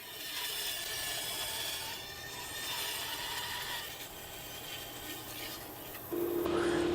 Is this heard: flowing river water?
no